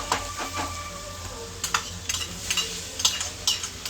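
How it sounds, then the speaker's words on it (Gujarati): Tempering spices sizzle in a pan over an open gas flame, a close, steady crackle broken by sharp pops and scraping stirs that grow busier toward the end, with no talking. "અને આમાં વઘાર કરું છું વઘાર"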